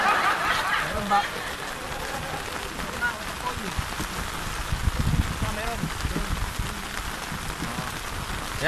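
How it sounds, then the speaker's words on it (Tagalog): Steady rain patters on a fishing boat at sea, moderately loud, while people talk and laugh over it. "Ayan po, umuulan talaga."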